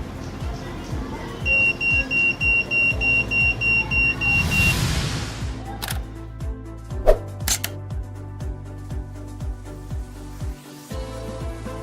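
A homemade Arduino motion-sensing alarm sounds a rapid string of loud electronic beeps, then a steady pulsing tone with a few sharp clicks, close and dominant over a low background hum.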